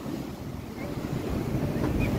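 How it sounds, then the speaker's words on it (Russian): Sea waves breaking on a shore in strong wind, with the water rising high; continuous gusty wind buffeting the microphone over a steady rush of surf, fairly loud and close throughout. "Волны высокие."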